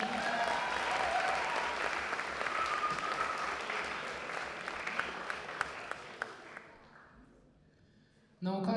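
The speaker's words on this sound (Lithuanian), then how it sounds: "plojimai" Audience applause after a lyrical flute solo at a university wind orchestra's festive concert: dense, sustained clapping from a large hall crowd that thins out and fades to near silence before a sudden new sound at the very end.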